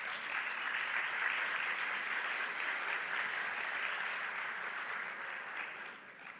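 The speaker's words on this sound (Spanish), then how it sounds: "Un aplauso para ellos." A crowd applauds steadily and evenly for several seconds, heard from a moderate distance, then tapers slightly at the end.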